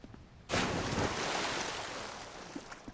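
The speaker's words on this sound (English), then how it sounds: "Why do we keep getting these water splashing noises?" Water splashes in Dark Souls II: Scholar of the First Sin as a sudden surging wash bursts in after a quiet start, then slowly fades like lapping surf, with a couple of faint knocks near the end.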